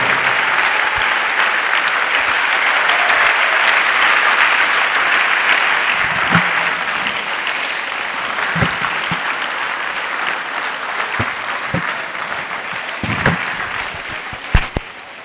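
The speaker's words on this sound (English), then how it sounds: "Let's keep clapping." Sustained audience applause honoring a professor at a Nigerian university event, a steady wash of clapping for about fifteen seconds that slowly thins, with a few louder individual claps near the end.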